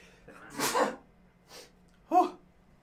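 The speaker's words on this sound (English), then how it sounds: "Oh, I've got another sneeze." A single sharp sneeze bursts out, with a quick intake before it and a smaller sneeze or snort after, close and alone with no talking.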